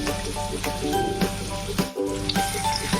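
Onions frying over medium heat in a pan while being stirred, a steady sizzle with scraping stir strokes cutting through every half second or so, close and fairly loud.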